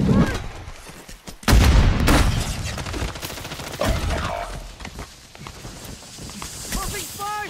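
A sharp, heavy blast from a grenade in the Call of Duty Warzone video game hits early, followed by scattered gunfire and smaller bangs, with a voice speaking over the action.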